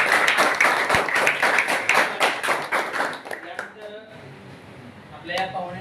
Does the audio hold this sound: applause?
yes